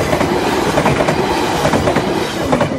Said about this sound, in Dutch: Dat is de enige trein die nu toe heel veel wind geeft.